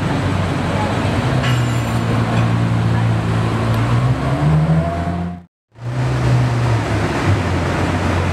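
A black Ferrari 812 supercar pulls in nearby on a busy night street, its steady engine drone mixed with traffic and crowd noise, interrupted briefly by a short gap.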